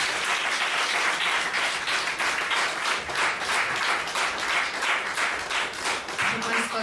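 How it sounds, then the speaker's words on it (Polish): A concert audience at an operetta gala applauds the performing artists with steady, full clapping that pulses slightly in rhythm throughout, close and loud. "Jeszcze raz wielkie brawa dla wszystkich artystów."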